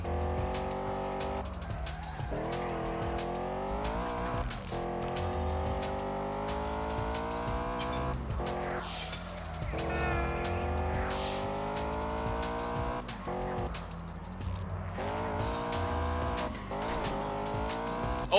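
Racing car in the Test Drive Unlimited video game on twisting corners, a steady engine drone that rises and falls in pitch as it shifts and accelerates, with brief tire squeals through the bends.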